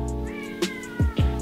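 A pet cat gives a short, close meow followed by two quick chirping mews, all within a second and a half.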